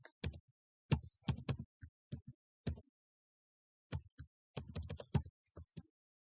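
Quiet clicks of keyboard typing in short bursts with brief gaps, close and faint, no voices.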